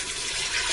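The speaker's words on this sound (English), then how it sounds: "I'm going to add 4 cups of water in here." Water pouring into a pressure cooker, a loud, steady gushing splash close by with no break, just before beef barley soup is sealed to cook.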